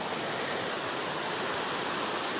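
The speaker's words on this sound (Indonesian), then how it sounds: "Ini sumber air." Steady, full rush of flowing water at the spring feeding a 3-inch hydram pump in Pelabuhan Ratu, a constant broadband roar close by with no pauses or voices.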